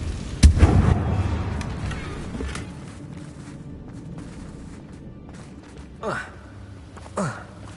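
Confringo fire spell blasts in Hogwarts Legacy: a sharp explosive burst near the start with a rumbling tail, then two shorter whooshing spell sounds later amid battle ambience and faint voices.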